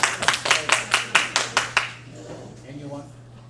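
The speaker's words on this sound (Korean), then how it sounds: "다시 한번 큰 박수 부탁드리겠습니다." About nine distinct claps from a small lecture audience welcoming the next lecturer, a quick even rhythm lasting under two seconds before fading into quiet room sound.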